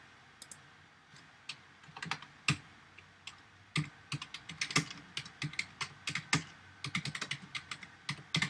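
Quick, crisp keystrokes as code is typed on a computer keyboard, coming in irregular bursts and growing denser toward the end, close and quiet in an otherwise still room.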